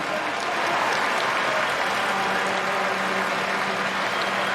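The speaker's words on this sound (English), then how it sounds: "And another round of applause" A stadium crowd at a Canadian Football League game between the Saskatchewan Roughriders and Toronto Argonauts applauds steadily, a dense, loud wash of clapping that holds evenly from start to finish with no talk.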